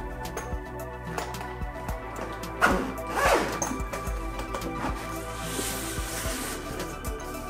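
Zipper along the outside of a beginner violin case being pulled open, a close scratchy zipping with louder tugs midway, alongside rustling and handling knocks.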